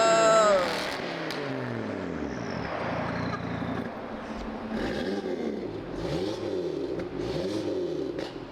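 Car with an aftermarket exhaust, started and revved in repeated rising and falling sweeps, loud and close, with people talking over the engine.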